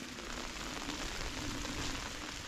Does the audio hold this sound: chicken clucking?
no